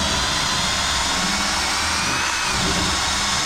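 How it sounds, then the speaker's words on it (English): Power drill boring holes through timber for big coach bolts during a house renovation, a loud continuous whirring drone close by with no pauses, no talking. "At the moment I'm just drilling holes through this."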